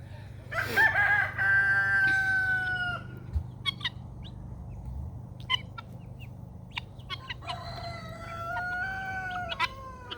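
Guinea fowl and turkeys call and cluck nearby in a loud burst, then sporadic sharp squawks and chirps, with another round of harsh, drawn-out calls near the end.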